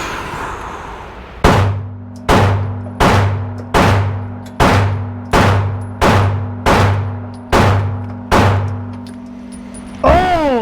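Ten gunshots are fired at a B8 target in an evenly spaced string, each loud close report trailing into a ringing echo, with no talk between shots.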